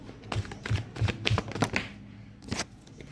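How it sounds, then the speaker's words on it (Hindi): Tarot cards being shuffled and arranged by hand, a series of crisp riffling and snapping bursts in quick succession, close and fairly loud, with brief pauses between handfuls. "Let me arrange the cards."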